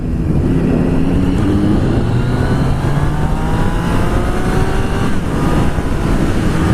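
A 2016 Triumph Street Triple motorcycle engine revs loudly and up close while riding, its pitch climbing repeatedly through the gears over a constant roaring drone.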